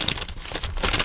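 Crisp crinkling and rustling of stiff glossy holographic paper sheets being handled, close up and steady, with no voices.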